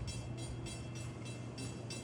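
An equipment train hauled by locomotive 518 on Long Island works hard with a long, heavy consist, giving a steady rumbling roar with a rhythmic pulsing of wheels over rail joints, fairly close and continuous.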